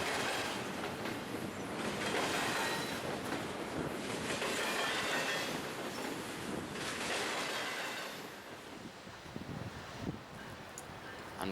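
A train rumbles past nearby at the Joliet Union Station junction with a steady roar and clattering wheels over rail joints, fading slightly toward the end; no voices.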